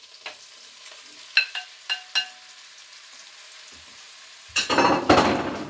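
A few metallic clinks of utensils against a pan, then beef cubes for stew drop in and burst into loud sizzling frying as they brown.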